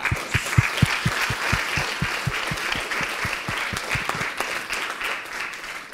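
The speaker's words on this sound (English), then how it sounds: "and round of applause." An audience at a GNOME Foundation annual general meeting during the GUADEC 2017 conference applauds. Steady, fairly loud clapping keeps a distinct rhythmic beat throughout.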